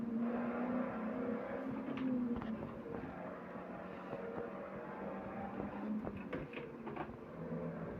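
Steady engine drone of a car in a sim racing game, holding a fairly even tone around fifth gear at moderate speed, with faint clicks and bumps over it and no talk.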